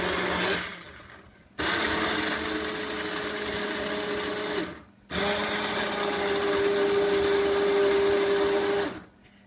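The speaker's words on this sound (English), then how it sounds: "So I'm just going to go through and puree this out" A blender purees mulligatawny soup with chicken and rice in two long, loud, steady runs, each a few seconds, separated by a brief pause, with a sustained motor whine and a pitch that shifts slightly as the mixture smooths.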